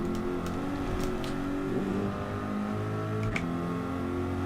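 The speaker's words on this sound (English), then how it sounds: "So just after you change gear you get a kind of woo." Corvette engine in the Gran Turismo 7 racing game at Red Bull Ring, a steady mechanical drone with a faint tonal whine that shifts pitch after each gear change, with brief clicks between.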